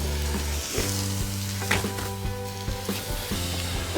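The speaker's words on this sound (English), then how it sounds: "right now our griddle is like I said, over 400 degrees, and if you can see, the tuna is starting to cook" Tuna sizzles loudly and steadily on a flat top griddle heated over 400 degrees above a firepit outdoors, a continuous close frying hiss with a few brief clinks and scrapes.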